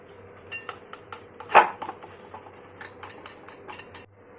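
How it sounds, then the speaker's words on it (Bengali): Ripe mangoes being grated by hand for mango kheer, a series of short scraping strokes close up with one sharper clatter partway through. "আমেরগুলোকে সব কটাকে এভাবে ঘষে নেব"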